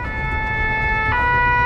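A fire brigade ambulance siren wails steadily while the vehicle drives to an emergency, a loud, sustained electronic tone with a brief pitch shift partway through, heard close over road noise.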